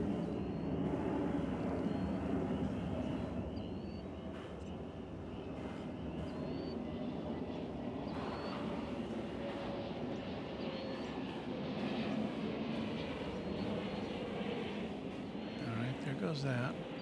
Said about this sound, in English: we've got the San Diego plane coming in over my shoulder